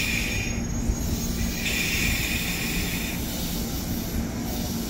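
A KRL commuter electric train, JR 203 series stock, rumbles steadily at Manggarai station during rush hour, a continuous low roar with faint tonal whine and hum, no voices heard.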